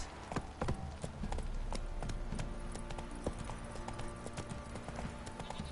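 Roach, a horse in the video game The Witcher 3, trots with crisp, evenly spaced hoof clops that stay close and fairly quiet throughout.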